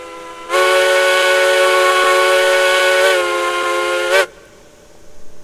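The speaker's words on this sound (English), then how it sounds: "It's got an awesome sounding whistle." A steam locomotive whistle in the game Railroads Online sounds one long, loud, steady tonal blast with a slight shift partway through, then cuts off sharply, leaving quiet rumble behind.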